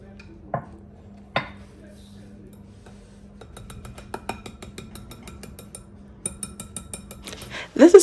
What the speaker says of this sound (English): So I'll go ahead and mix everything well together.